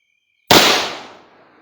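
A single ceremonial gunshot round fired at a Biafran independence anniversary event gives one sharp, loud blast that rings out into a long, echoing decay after a quiet start with a faint steady tone.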